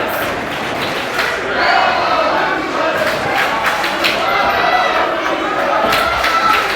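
A wrestling crowd roars and cheers for the hometown favorites at a tag team championship match, a loud sustained mass of voices with shouts rising above, and a commentator talking over it.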